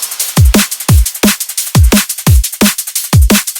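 A solo electronic drum loop of layered kicks, one from Surgical Sounds topped with a second kick, punching in a steady pattern with snappy hits and busy hi-hats between them, loud and dry with no voices.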